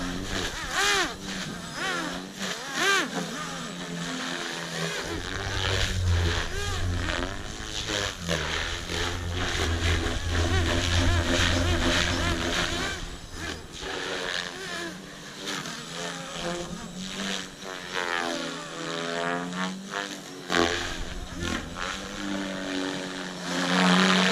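Electric Protos 380 RC helicopter with an electric tail motor flying at high rpm, a continuous whining, buzzing rotor drone that rises and falls in pitch as it moves around, heard alone with no voices.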